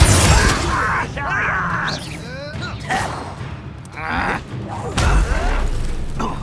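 Confringo blast spells explode during combat in the video game Hogwarts Legacy, with repeated loud booms and cracking bursts, whooshing magic and debris under excited talk.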